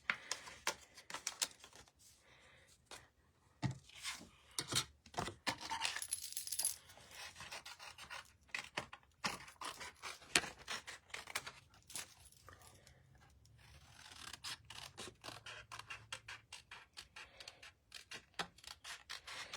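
Hand scissors snipping through paper for a card-making project, a long run of quiet, irregular crisp snips and rustling paper handling, close up, with brief pauses between cuts.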